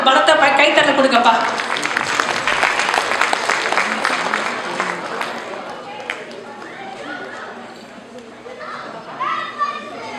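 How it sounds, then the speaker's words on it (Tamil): Applause and cheering from an audience of children and adults for dance choreographers at a Kummi dance event, loud at first and slowly fading, mixed with children's chatter and voices. "அவர்களுக்கு ஒரு பலத்தை கைத்தட்டல் கொடுக்கப்பா"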